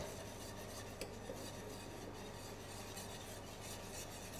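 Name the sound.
stirring crème pâtissière in a saucepan on induction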